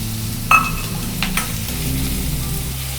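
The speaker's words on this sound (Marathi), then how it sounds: "कांदा थोडा लाल झाला आहे, पाहू शकता" Finely chopped onion frying in a pan for a Kolhapuri sprouted matki usal, a steady close sizzle opening with a metallic clink and a few spatula scrapes, no voices.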